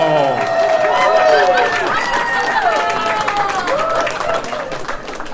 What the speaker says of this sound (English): some of you groan and some of you clap and cheer